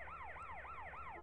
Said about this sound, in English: This is how you get the ambulance,